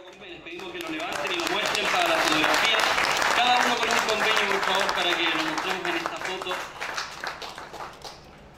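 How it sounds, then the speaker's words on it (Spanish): An audience claps loudly at an agreement-signing ceremony for alfalfa planting, the applause swelling and holding steady before thinning out, with voices and cheers mixed in. "fuerte el aplauso para esta fotografía y esta firma de convenio"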